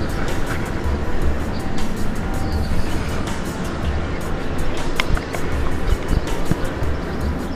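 A train rolls past at close range somewhere in Brazil, with a loud, steady rumble and rattle that fills the whole stretch without a break.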